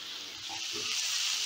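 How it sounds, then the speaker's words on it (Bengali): Vegetables fry in a pan over a raised gas flame, giving a soft, steady hiss throughout with faint stirring sounds underneath, close and fairly quiet. "এবারে গ্যাসের আঁচটা বাড়িয়ে নিয়ে এই সবজিগুলোকেও আমি বেশ লাল লাল করে ভেজে নেব"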